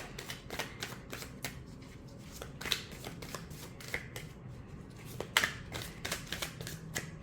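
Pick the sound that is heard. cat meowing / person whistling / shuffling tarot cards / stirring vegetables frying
shuffling tarot cards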